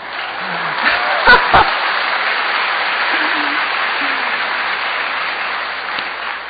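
A church congregation applauds the preacher during a sermon, sustained crowd clapping that blends into an even, band-limited roar with a few brief spoken sounds over it.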